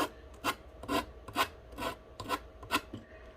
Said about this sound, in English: This kind of works like a little finger sander.